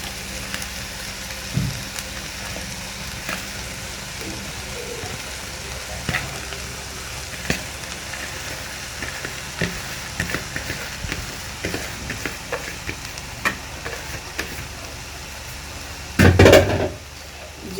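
Rice, vegetables and eggs stir-fried together in a pan for Chinese fried rice, a steady soft sizzle with light scraping and stirring, ending in a brief louder clatter of utensil on pan.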